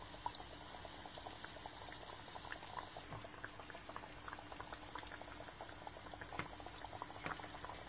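Camembert deep-frying in sunflower oil, a steady close bubbling with dense crackle and small pops running throughout, no voices.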